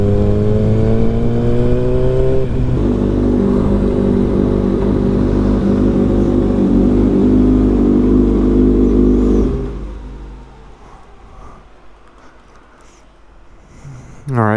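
Kawasaki ZX6R sport motorcycle ridden and accelerating, its engine note loud and rising through gears for about nine seconds before dropping to a quieter idle-like rumble, with a burst at the end.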